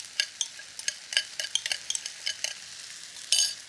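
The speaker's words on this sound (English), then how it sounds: "we're going to give it one really nice toss so each grain of rice there gets coated in that yummy, salty, almost sweet sauce" Duck fried rice is stirred and tossed in a hot pan, with quick metallic scrapes and clatters over a steady sizzle and a louder shuffle near the end.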